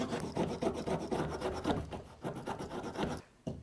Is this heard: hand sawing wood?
yes